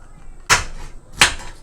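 A knife chops a bell pepper on a cutting board with two sharp, close chops about 0.7 seconds apart, with no voice.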